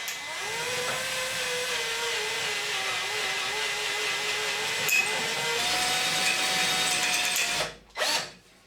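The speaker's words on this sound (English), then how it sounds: "when you're drilling out a grub screw, it's actually better if you can have the drill rotating before you touch the grub screw" A drill bit grinding into a steel grub screw with a steady, whining power-drill tone that shifts pitch midway, loud and close, then briefly stopping and restarting near the end.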